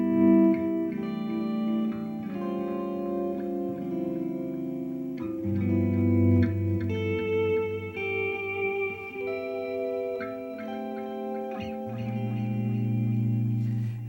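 Fender Stratocaster electric guitar played through a delay effect, sustained notes and chords ringing with echoing repeats, loud and steady with no talk.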